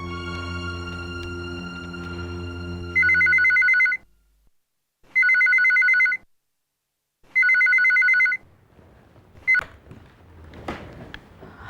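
A telephone rings three times in loud electronic bursts separated by short silences, following a stretch of background music and ending with rustling handling noises.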